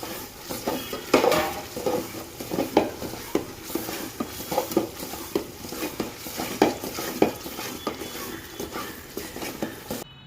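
Spices left to cook for two minutes in a pan for Gujarati tuver totha, a low sizzle punctuated by frequent rhythmic scrapes and clanks of a spoon against metal, no voices.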